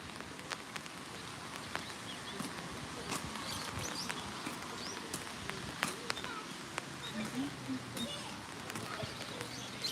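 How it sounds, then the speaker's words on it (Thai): Rain patters softly and steadily on a street lined with blooming cherry trees in Japan, with scattered sharper drips tapping nearby. "ฝนตกตักตักตัก"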